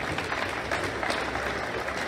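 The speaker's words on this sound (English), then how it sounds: "let's give a nice round of applause to Chip Fazio" Brief round of applause from an audience at a tennis coaching presentation, a dense, steady wash of clapping with a faint crowd murmur.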